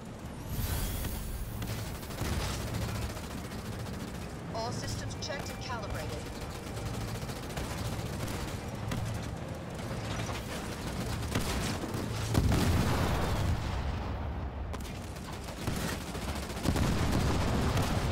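Gunfire and explosions in the Halo Wars video game as Marines take fire from hostile vehicles, with sustained automatic bursts and heavy booms over a dense battle mix, and game voices talking throughout.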